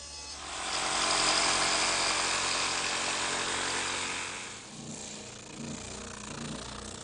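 A table saw rips through a wood board for a chest project, a loud steady high whine that holds for about four seconds and then drops away as the blade runs down, with no talk.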